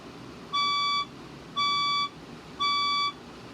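A building fire alarm sounds during a scheduled alarm test: three identical bright electronic tones, each about half a second long, separated by short gaps in an even, steady pattern.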